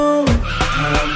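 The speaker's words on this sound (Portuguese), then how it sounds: "Eu vou atrás do Coringa, agora vou ligar o carro e ir correndo." A car speeding off with its tires skidding, a sharp squeal that bends downward, then more screeches and engine rush in quick succession, close and loud.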